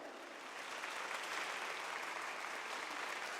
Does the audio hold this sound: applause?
yes